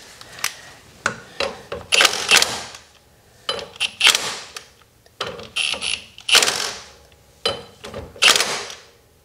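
Castle nut being tightened onto a golf cart axle with a 15/16 socket and ratchet: repeated bursts of close, rhythmic ratcheting clicks in four or five sets, separated by short pauses, with no talking.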